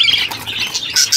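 A caged parrot squawks harshly in repeated bursts with wing flutters, close by, while the female sits inside with three healthy chicks.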